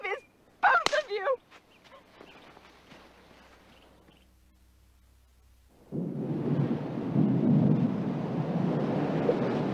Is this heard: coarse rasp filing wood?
no